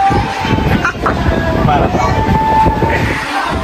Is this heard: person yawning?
no